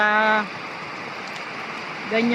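Steady rain falls as a soft, even hiss that fills the middle of the clip, with voices talking briefly at the start and end.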